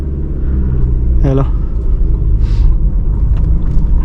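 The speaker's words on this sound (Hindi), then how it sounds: "ब्रेक से पाँव उठा के एक्सीलेटर करना है और तुरंत आपकी गाड़ी जो है आगे बढ़ जाएगी" A car pulling away uphill as the accelerator is pressed, a loud, steady low engine rumble throughout, with a brief spoken greeting and a couple of short clicks or squeaks over it.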